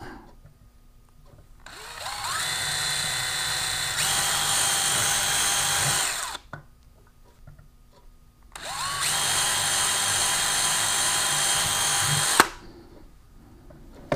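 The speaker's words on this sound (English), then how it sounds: "And I want to work my way up to a bigger drill bit." A power drill bores a small hole into the side of a GoPro housing in two loud, close bursts. Each spins up with a rising whine, holds steady and stops, with quiet gaps before and between.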